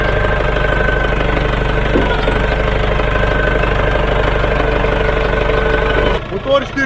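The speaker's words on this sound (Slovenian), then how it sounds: "Motor 4 cilindre." Four-cylinder 57-horsepower engine of a Neron S-35 self-propelled loader with permanent four-wheel drive and hydrostatic transmission, idling with a steady close knocking rumble that stops abruptly near the end.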